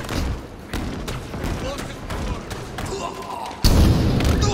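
A rocket launcher blast in Halo Infinite multiplayer, a sudden loud boom near the end following scattered thuds and shots, with a person talking over the action.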